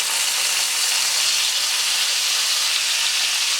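Pieces of bitter gourd (karela) dropped into hot refined oil in a wok give a steady, even sizzling hiss that holds without a break.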